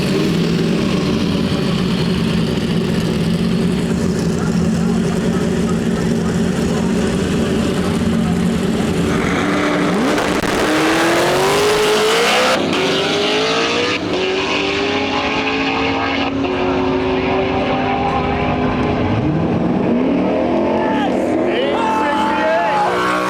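A Mustang and a big block 565 Motion Raceworks truck stage at a drag strip, engines rumbling and revving loudly, then a sweeping rising roar as they launch, with an announcer talking over the noise.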